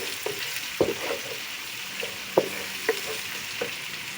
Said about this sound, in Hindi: अब इसे भूनेंगे। हाँ, इसको थोड़ा सा भूनेंगे।